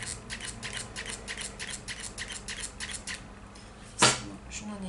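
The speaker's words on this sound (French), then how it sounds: "je viens couper, voilà, le surplus" Scissors snip through excess material on a small handmade decorative box, a quick run of light, evenly spaced cuts close by, then a brief sharper click.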